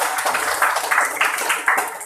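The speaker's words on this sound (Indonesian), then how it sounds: "tepuk tangan untuk kita semua." Students in a vocational high school classroom clap together in a lively, uneven burst of applause, with several louder surges close by and some voices mixed in.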